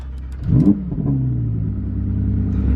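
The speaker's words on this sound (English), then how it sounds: "fire the car up." A 2020 Lamborghini Huracan Evo engine cranks and fires up with a quick rising roar, then settles into a steady, throaty idle.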